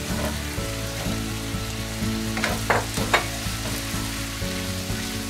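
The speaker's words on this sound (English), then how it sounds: "Now we're gonna add the broccoli." Blanched, half-cooked broccoli tossed into a pan of frying shrimp, giving a loud, continuous sizzle close up with a couple of brief clatters of stirring.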